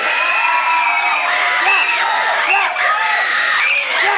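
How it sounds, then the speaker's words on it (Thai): Blue corner supporters cheer, whoop and yell together at a Muay Thai fight, a loud continuous crowd roar with rising shouts and overlapping voices throughout. "ขอเสียงกองเชียร์ฝ่ายน้ำเงินเล"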